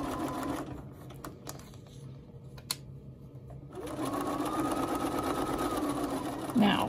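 A sewing machine stitching a crochet panel bag runs in a close, steady whir, stops for a few seconds of quiet handling clicks, then starts again and runs continuously.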